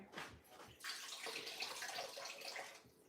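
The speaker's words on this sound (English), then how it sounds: "I'm going to run some water in there, some fresh water, and drain it again." Water splashes and gushes into a kitchen sink and drains away, a close, fairly quiet rushing that swells after a few scattered drips and continues without speech.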